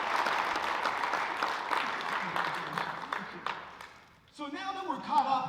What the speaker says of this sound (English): Can we give Allison a round of applause?